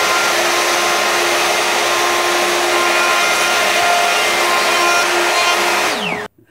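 A router cuts a 15 mm deep concealed hinge hole in clamped timber using a shop-made jig, producing a loud, steady whine that holds alone and then spins down abruptly at the end.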